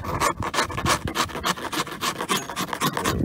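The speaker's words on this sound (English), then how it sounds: "I'm going to switch over and use a finer file" A fine file smooths a Corvette C3 dashboard with quick, loud, close rasping strokes in a steady back-and-forth rhythm and no speech.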